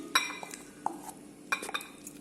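Food being tipped into a cooking pan for an oil-free dish, heard as a few close metallic clinks and scrapes of utensil against pan with soft shuffling between them.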